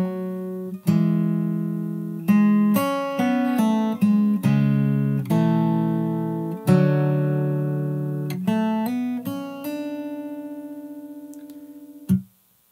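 Fingerstyle acoustic guitar picks a single line from a song, with distinct plucked notes that ring and decay in an unhurried rhythm before a final held note is cut off; no voices.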